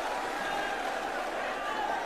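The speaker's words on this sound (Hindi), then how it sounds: "जोरदार तालियां बजा के आदरणीय नारायण सिंह जी का आप स्वागत करें" Sustained, dense applause from a large rally crowd welcoming guest Narayan Singh at a Rajasthan assembly election political gathering, steady and loud throughout with a few voices mixed into the clapping.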